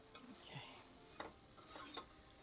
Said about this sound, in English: So don't let this sit, just keep stirring it.